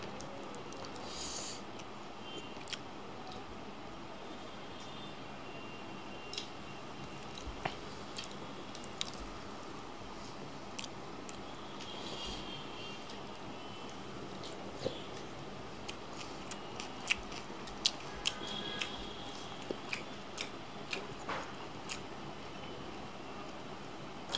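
Close, quiet chewing of spicy fried tilapia with hot rice: soft wet squishes and small crisp bites recur steadily with occasional sharper clicks, no talking.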